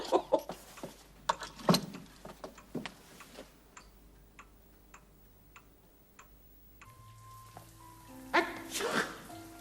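Several sneezes ring out up close in a French cartoon, with a clock ticking steadily through a quieter stretch in between.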